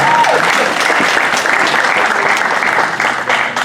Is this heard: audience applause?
yes